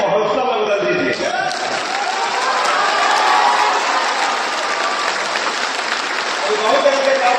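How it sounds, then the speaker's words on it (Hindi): An audience at a festival celebrating Emperor Ashoka's birth anniversary in Patna breaks into loud, sustained applause with scattered cheers. The clapping swells and continues steadily throughout. "इस उत्सव को एक जोरदार ताली से महोत्सव में बदल दीजिए"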